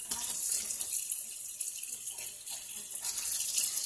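Tap water running steadily into a sink while defrosted meat is washed, a continuous close hiss with slight fluctuations and no talk.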